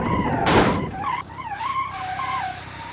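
A souped-up Kymi Tarcan car in a video game skids hard with a loud burst of tire screech, then its engine revs up and down, rising and falling as it drives on fast.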